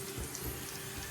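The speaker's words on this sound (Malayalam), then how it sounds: "ഇനി നമുക്ക് കുറച്ച് വെള്ളം ഒഴിച്ചു കൊടുക്കാം ഉള്ളി വേവാൻ വേണ്ടി." Water poured into a cooking pan to soften onions while making a vermicelli upma snack, a steady faint splashing stream heard alone.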